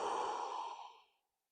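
A single long exhale during a bedtime stretch, a close, breathy sigh that fades out after about a second, with no talking.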